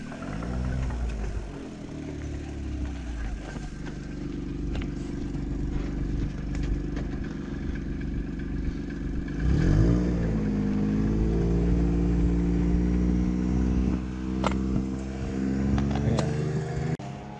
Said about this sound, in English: Oh, there's a vehicle up here.